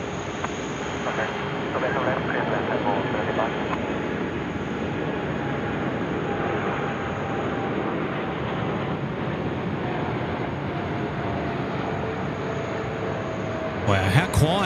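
At night on Sydney Airport's runway 34 left, an airliner rolls for takeoff, giving a steady distant jet roar that holds throughout. People talk over it almost the whole time.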